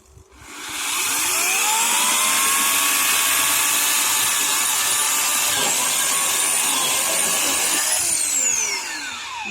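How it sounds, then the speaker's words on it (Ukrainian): A Mächtz MCE-2940 electric chainsaw spins up and cuts steadily through wood, a loud, close, continuous high whine with shifting pitch as the chain bites, easing off at the end. "Давайте якось спробуємо щось нею порізати, попробуємо її в ділі."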